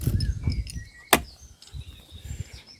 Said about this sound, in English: I'll lock the car with the key,